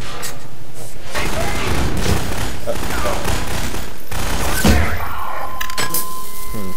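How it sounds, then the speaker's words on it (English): Gunfire in the video game Half-Life 2, rapid overlapping shots from several weapons as rebels fire at targets, loud and dense throughout with speech mixed in. "me shooting all the targets, while the rebels ineffectually shoot sort of near them"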